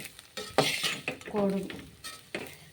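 A spoon stirs and scrapes fish eggs frying in a pan in a few uneven strokes, with a light sizzle and occasional metallic clinks, close up.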